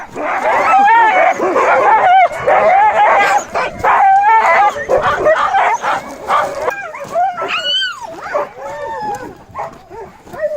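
Several dogs at obedience training yip, whine and bark excitedly close by, a busy overlapping chorus of high-pitched yelps and whimpers that continues throughout.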